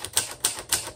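Typing on the flat tombstone keys of a 1957 Royal Aristocrat typewriter: three crisp, evenly spaced key strikes close up, each a sharp metallic clack with a short tail, heard alone.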